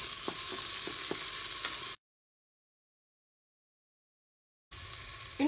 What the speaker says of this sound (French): vous mettez un filet d'huile dans votre cookéo. Vous allez y faire revenir vos oignons